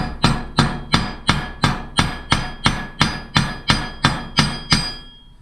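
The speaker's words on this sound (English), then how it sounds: "I'm going to hammer this filler wire" A hammer strikes steel filler wire in a rhythmic series of about twelve sharp, ringing metallic blows, evenly spaced roughly every half second. The strikes are close and loud, each leaving a brief ring, with no talk.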